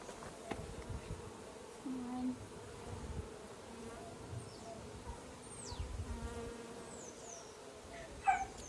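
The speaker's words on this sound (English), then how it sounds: "Look at these bees." Bees buzzing around an opened beehive, with a low, steady hum and occasional louder passes of individual bees flying close to the microphone, plus faint background noises and a brief dog bark.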